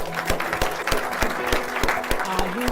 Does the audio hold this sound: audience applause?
yes